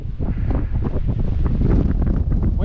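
Strong wind on a hilltop in the Lake District fells buffets the microphone in loud, continuous rumbling gusts, drowning out any other sound.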